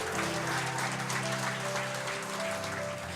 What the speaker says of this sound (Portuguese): Você pode dar um aplauso ao Senhor e um brado de júbilo?